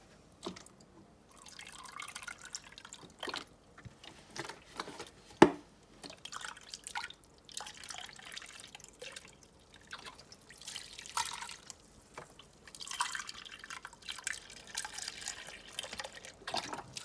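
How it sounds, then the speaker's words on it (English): Beef broth pours into a crockpot mixture, heard as faint, scattered drips and light trickling splashes across a long stretch, with one sharper splash partway through and no voices. "I'm going to put 3 cups of beef broth into my mixture here"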